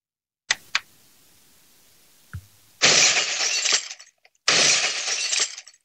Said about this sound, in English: You're breaking all the damn glass.